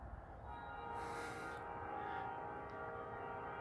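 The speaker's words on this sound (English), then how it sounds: "That's the local train," A CN local freight train, the L555, rolls past steadily and nearby, with a continuous rumble of wheels and a brief high horn or squeal tone partway through.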